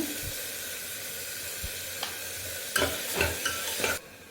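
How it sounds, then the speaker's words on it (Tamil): Tomatoes sauté in a pan with ginger garlic paste and a little salt for a green dal masala, giving a steady close sizzle with several scraping stirs near the end. "தக்காளி நல்லா குழைய வதக்கிக்கோங்க"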